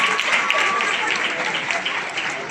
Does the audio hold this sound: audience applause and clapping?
yes